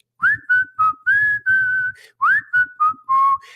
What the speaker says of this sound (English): a gentleman from another table was whistling this